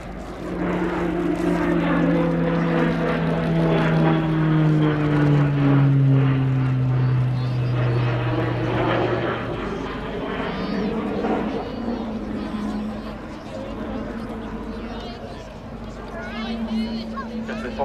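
A Grob Tutor propeller trainer aircraft drones past overhead performing a slow roll at the 2019 Cosford Airshow, its engine pitch sliding downward as it passes, while a voice commentates throughout.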